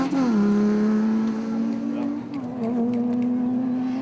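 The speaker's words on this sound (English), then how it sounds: "The Team Castrol Toyota Hilux quickly built up a head of steam and was well down the road" Team Castrol Toyota Hilux rally truck pulling away at the start of the Magalies 400, a loud steady engine note climbing through gears, close at first then holding as it heads down the road.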